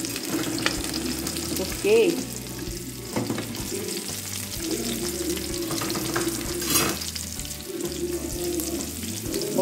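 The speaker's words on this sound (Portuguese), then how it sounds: "botei agora a cebola e a batata para fritar aqui" Onion and potato frying in a pan with garlic and meat drippings, a steady loud sizzle running throughout with occasional stirring scrapes and a brief spoken word over it.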